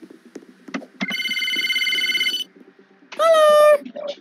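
In a Roblox pizza tycoon game a telephone rings in two bursts, a sustained electronic trill followed by a shorter, louder ring, with faint clicks between them.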